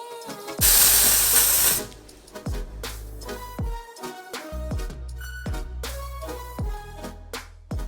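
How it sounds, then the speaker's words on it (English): A single strong burst of dry shampoo aerosol sprayed onto parted hair, hissing for about a second, followed by quiet rustling and handling sounds. "Let me part my hair and then I will spray it on for you guys so you can see."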